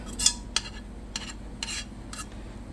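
A spatula scrapes caramel frosting out of a mixing bowl in a few short, separate strokes, fairly close and moderately loud, with quiet gaps between scrapes and no talking.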